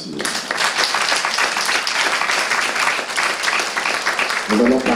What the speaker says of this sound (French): Applaudissons à Jéhovah.